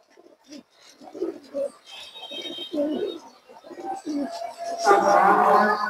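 Pigeons of mixed fancy breeds coo in repeated soft, low phrases close by, with a busier burst of cooing and fluttering near the end; someone talks intermittently over them.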